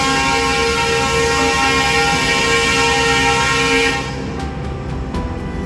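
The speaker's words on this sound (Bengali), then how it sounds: "এই হচ্ছে আমাদের ট্রেন।" Garib Rath Express sounding its horn as it departs Agartala station on the Northeast Frontier Railway's Lumding division: a loud, sustained, steady horn blast lasting about four seconds, then cutting off into quieter station and engine noise.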